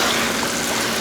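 Water gushing steadily into a pot of tomato sauce, a short continuous pour heard up close.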